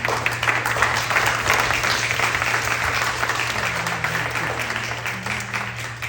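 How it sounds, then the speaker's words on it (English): Audience applause at an art summit talk, a thick continuous patter of many hands clapping at even loudness throughout, over a low steady hum. "Let's give a big round of applause for Prisha."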